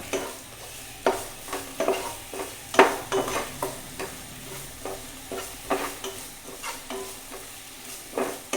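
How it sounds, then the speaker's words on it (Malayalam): A spoon stirs okra and grated coconut stir-fry with turmeric in a hot pan, making repeated rhythmic scrapes and soft sizzling, close and fairly loud, with no talking. "എന്നിട്ട് ശരിക്ക് മിക്സ് ചെയ്യും."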